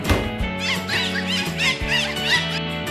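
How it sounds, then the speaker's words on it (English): A dolphin gives a series of high, chirping squeaks in quick succession over a steady musical backing, rhythmic and fairly close. "Dolphin."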